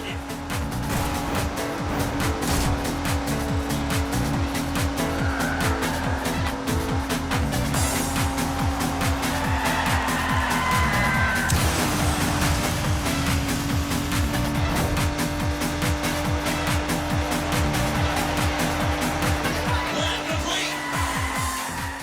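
Car engines in a 1990s-era racing video game, a loud sustained engine drone with shifting pitch, tire squeals and skids over a continuous soundtrack-like bed.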